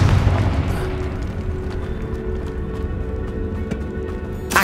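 A Confringo fire spell detonates in Hogwarts Legacy inside a tomb, opening with a loud, close boom that fades into a rumbling decay over several seconds, with no voices.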